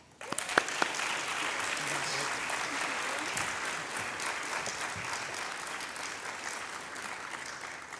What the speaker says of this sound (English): Join me in applauding the winner of the 2024 Camille K. Rajput Memorial Award, Bronwyn Morris.